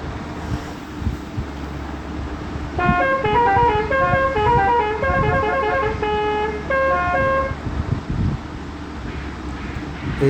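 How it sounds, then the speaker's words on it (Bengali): A bus horn in the video game Bus Simulator Indonesia plays a loud, multi-tone musical sequence of short repeated notes for several seconds over a low engine rumble. "এই বাসটার মধ্যে টোটাল 4টা হর্ন আছে, আপনি যে কোনো হর্ন ইউজ করতে পারেন।"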